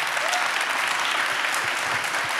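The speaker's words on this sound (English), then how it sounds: "please give another warm applause to Victor Kossakovsky" An audience at a film festival talk applauds warmly, a dense steady wash of clapping that fills the room evenly throughout with no voices over it.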